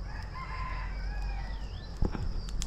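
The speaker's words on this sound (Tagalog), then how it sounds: "Baka lalayas na yung mga manok." A rooster crows at a distance in a rural yard with mango trees, one long drawn-out call heard over a steady outdoor hiss, followed by a few sharp knocks nearby.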